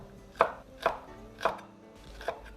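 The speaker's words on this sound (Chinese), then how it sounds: "再切一些葱段、" A knife chopping scallions and green pepper rings on a cutting board, four sharp separate chops about half a second apart, close and clear against a quiet kitchen background.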